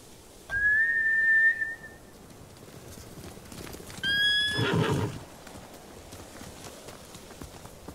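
Samurai horses in Ghost of Tsushima neigh twice, a shrill whinny near the start and another a few seconds later with a burst of hoof clatter, over quiet ambient background.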